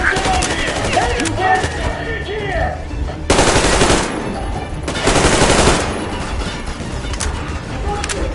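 Sustained machine gun fire from the video game Metro Exodus, loud dense bursts with a couple of heavier volleys, continuous across the clip and mixed with shouted voices and game sounds.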